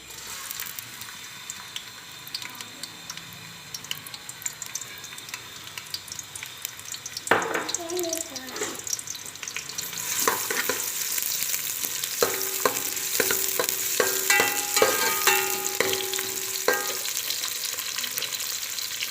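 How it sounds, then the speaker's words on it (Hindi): Sliced onions added to hot oil for chana biryani, a quieter crackle that swells into a loud, steady sizzle with stirring knocks and a brief tonal beep in the middle. "अब इसमें शामिल कर दें प्याज स्लाइस में कटा हुआ।"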